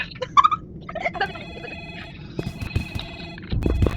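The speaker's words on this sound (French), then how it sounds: "If the phone ever rings again, listen carefully." A telephone rings in a Roblox video game, a bright electronic ringtone that begins with short chirps and settles into a steady tone. A low rumble comes in near the end, with no talking.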